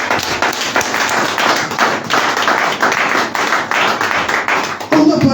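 A church congregation at a Sunday praise and worship service claps steadily and fast, a dense continuous patter of hands with voices mixed in, close and loud for the whole stretch.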